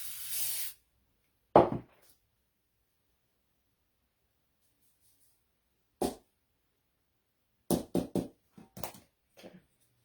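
Short hissing bursts of craft spray coat a mini faux Christmas cake: one long spray to start, then several quick separate puffs spread out across quiet gaps, near and crisp.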